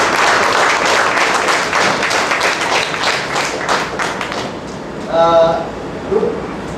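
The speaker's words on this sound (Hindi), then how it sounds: "आज जोरदार तालियों से हम स्वागत करते हैं" An audience at a communication talk claps loudly to welcome a speaker, a dense patter of many hands that fades over several seconds, with a voice briefly heard near the end.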